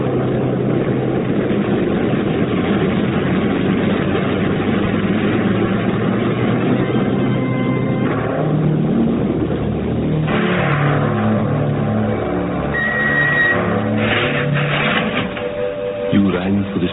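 A spaceship lifts off in a radio drama, heard as a loud continuous engine roar with a rising, rumbling drone that swells near the end.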